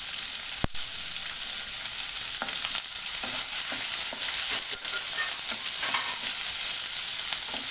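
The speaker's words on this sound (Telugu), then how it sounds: "ఇందులో ఉల్లిపాయలు, పచ్చిమిర్చి, కరివేపాకు, ఎండుమిర్చి కూడా వేసి దోరగా వేయించాలి" Onions, green chillies, curry leaves and dried red chillies fry loudly over already roasted lentils, a dense continuous hiss and sizzle punctuated by occasional spoon knocks and scrapes as the mixture is turned.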